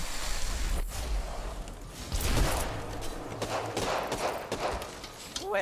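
Gunfire in the Apex Legends battle royale, scattered shots and short bursts crackling at mid distance over a busy in-game soundscape, with a voice talking faintly.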